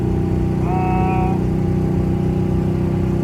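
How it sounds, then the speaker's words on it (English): A junker V8 daily car with a loud, rough exhaust drones steadily in first gear while climbing a curve, a deep rumbling engine note, close and constant, with a brief high tone briefly riding over it. "You can also hear my atrocious exhaust"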